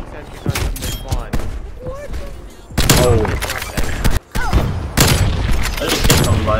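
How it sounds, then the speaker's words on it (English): Sentry turret gunfire in a shooter video game, with loud sustained bursts of rapid automatic fire and booming impacts mixed with game voice announcements and player chatter. "Hostile sentry turret active. Multiple enemy sentry turret active."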